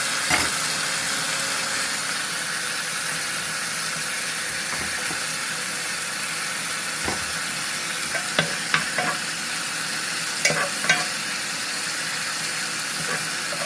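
Garlic with butter in a pan gives a steady broadband sizzle throughout, with occasional sharper clicks and taps from stirring; no voices.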